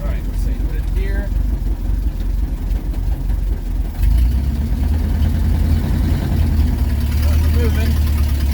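A 1926 Chrysler engine fires up and idles with a loud, low rumble that steps up in strength partway through, then keeps chugging steadily close by; a person talks over it early on.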